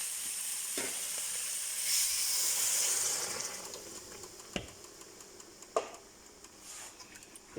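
Broth is poured into a hot pot of homemade Japanese curry. A strong sizzling hiss swells as the liquid hits, then fades to a softer bubbling with a few sharp clinks near the end.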